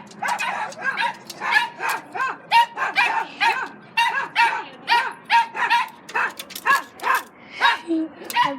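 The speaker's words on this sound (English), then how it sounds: "I don't know if you hear the dogs barking." Dogs bark and yip in a steady, rhythmic run of repeated barks, about two per second, fairly close and loud throughout.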